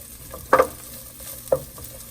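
Chopped onions fry and get stirred in hot oil, a soft sizzle carrying two sharp scraping strokes about a second apart, close and fairly quiet.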